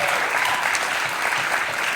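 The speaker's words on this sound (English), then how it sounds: "Big round of applause for Erik for filling in." Sustained, loud applause from a theater audience at a songwriters-in-the-round show at the Rialto Theater, a steady dense wash of clapping filling the whole stretch.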